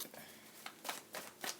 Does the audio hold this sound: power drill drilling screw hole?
no